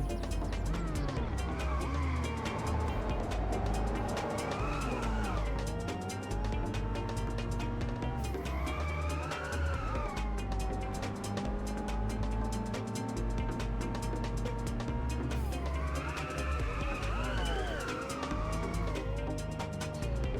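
A car drifts through corners in the arcade racer Inertial Drift, its engine revving and swooping in pitch with long tire-slide whines, loud and continuous under game music.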